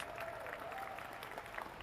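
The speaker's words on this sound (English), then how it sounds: "clapped and cheered by the home crowd" A home crowd applauds at a pool match in Hanoi, a soft, distant patter of clapping that holds steady for a couple of seconds.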